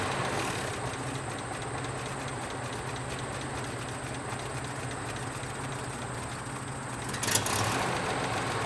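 An M-35 military truck engine idles at its slowest setting with a steady low rumble and a faint rhythmic chug. A sharp click sounds near the end.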